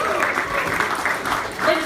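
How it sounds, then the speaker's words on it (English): Short burst of audience applause at a book launch evening, greeting the compere, a barrister, as he comes up; dense, steady clapping throughout with some voices murmuring underneath. "give an enormous round of applause, please, to our compere for the evening, Mr. Graham Davies, Barrister at Law"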